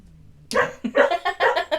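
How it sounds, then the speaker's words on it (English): A dog barks loudly and close by, a quick run of about five sharp barks after a brief quiet start. "You know it's over when the dog starts barking."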